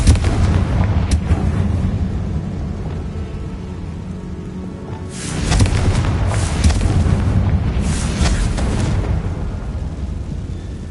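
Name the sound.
Confringo blast spell explosions in Hogwarts Legacy video game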